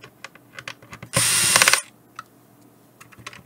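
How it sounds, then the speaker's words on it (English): Screws being unscrewed with a Phillips screwdriver from the base unit of an HME DX300 wireless headset system, heard as a short burst of dense ratcheting clicks between faint, quiet taps and handling noises. "So I'm gonna put the Phillips screwdriver,"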